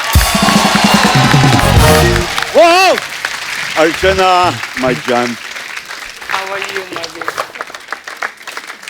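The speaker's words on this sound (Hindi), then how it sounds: "जैकी सर के लिए जोरदार तालियां" A studio audience at a Hindi comedy talk show applauds loudly for a guest, the clapping strongest at the start before a voice talks over the fading crowd.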